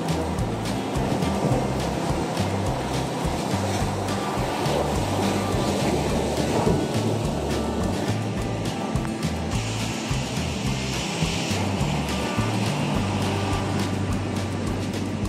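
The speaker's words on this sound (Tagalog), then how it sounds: "Ipinagbabawal ang paliligo sa part na ito ng Dalugan Beach dahil sa sobrang lakas at laki ng mga alon dito" Strong, large waves roll and crash at Dalugan Beach in Casiguran, Aurora, Philippines, producing a steady, dense roar of surf with no pause, heard without talk.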